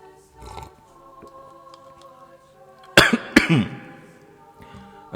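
A person recovering from illness coughs twice in sharp, loud bursts close by, following quieter speech-like murmurs and small background sounds.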